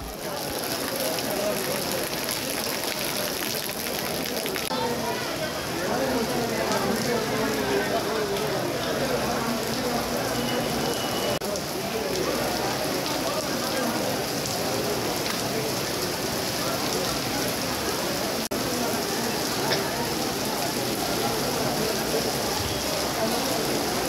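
Heavy rain pours steadily over an outdoor petition camp held during a power cut near Tiruvallur, with a dense, continuous hiss throughout and faint voices mixed underneath.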